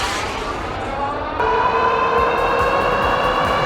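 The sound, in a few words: Eahora Romeo Ultra II e-bike motor accelerating on twist throttle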